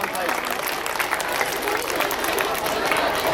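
An audience claps at an Indian public school program, making dense, even applause that fills the hall, with crowd voices mixed faintly underneath.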